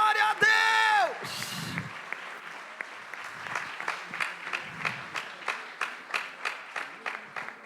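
Church congregation applauding at a Lord's Supper service, clapping settling into a steady rhythmic beat of individual claps after a burst of voices and cheering at the start.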